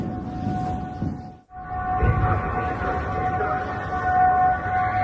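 An air raid siren sounds in Baghdad during an Iranian drone attack. It is a sustained, steady wailing tone over rumbling background noise, briefly dipping almost to silence before returning at full level.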